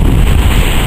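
Wind gusts across a choppy, windy sea around a boat, a loud, close, continuous rush with microphone buffeting and no speech over the short stretch.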